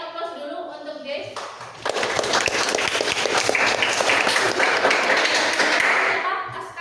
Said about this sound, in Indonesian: kita kasih aplaus dulu untuk guys